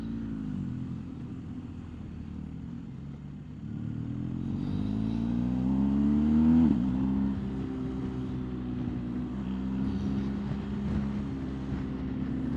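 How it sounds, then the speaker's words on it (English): A big truck passing a BMW R1250GS motorcycle on a windy winter road in Northumberland, England, a low engine rumble swelling to a peak and then fading under steady wind buffeting. "And that was quite a big truck."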